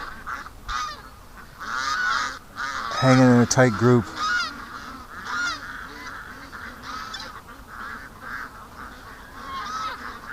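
A flock of ducks honks and quacks in agitated bursts, loudest in a frantic cluster midway, with a brief spoken remark over the calls.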